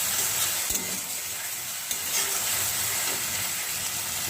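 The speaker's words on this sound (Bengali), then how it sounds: "পেঁয়াজটাকে আমরা খুব ভালো করে ভেজে নেব, যতক্ষণ দিয়ে কাঁচা গন্ধটা না যায়।" Chopped onions sizzling steadily in oil in a pan, a continuous close hiss with a couple of faint stirring knocks, no voices.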